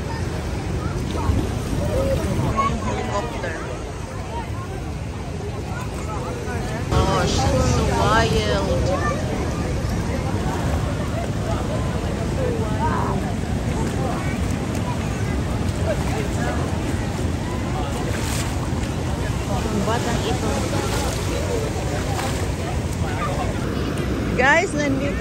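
Wild surf at Bronte Beach in Sydney roars continuously for the whole stretch, a dense crashing wash of waves mixed with wind buffeting the microphone, while people talk over it.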